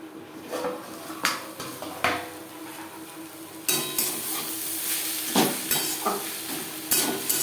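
Amaranth stem greens and onion stir-fried in a pan over a gas flame, with a steady sizzle broken by repeated scraping and clattering strokes of a spoon against the metal, close and fairly loud, with no talk.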